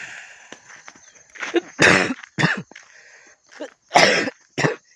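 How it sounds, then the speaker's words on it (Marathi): Someone coughs repeatedly in harsh, hacking bursts, some in quick double pairs, close to the listener with quiet gaps in between. "बघा खोकला डबल तसलं सुरू झालं"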